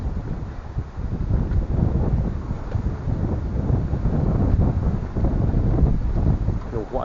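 Strong wind buffets the microphone on a boat off Langkawi, a steady loud roar with water and hull noise beneath it, continuous throughout.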